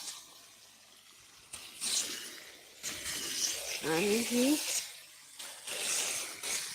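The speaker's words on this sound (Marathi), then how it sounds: "पाण्याचा आवाज यायला लागलाय" Irrigation water rushes with a steady hiss into a sorghum field throughout while a person talks over it, with a brief higher-pitched voice sound in the middle.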